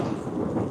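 Thunder rumbles loudly through a rainstorm, a continuous deep, heavy roll with rain hissing underneath, heard during flooding at a garage.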